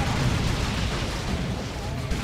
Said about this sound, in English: Grenade. It's a nice grenade.